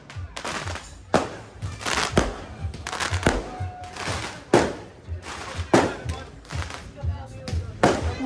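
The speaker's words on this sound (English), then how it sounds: "Who doing fireworks at this time?" Fireworks bang and crackle outdoors at night in Varna, Bulgaria, in an irregular series of sharp explosions, some close and loud, others softer and farther off, with faint voices between.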